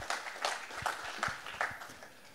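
An audience at a French business training session applauds, heard as faint, distant, evenly spaced claps that fade over about two seconds.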